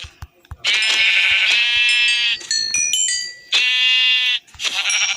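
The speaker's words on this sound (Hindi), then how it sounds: "बकरी" Repeated loud, harmonic bleating of a Minecraft goat, several wavering calls in a row, with short gaps and a few game clicks and tones between them.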